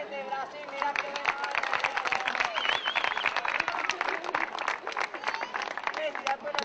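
Crowd applause from people in Argentina, with dense clapping and voices mixed in throughout, moderately near and continuous.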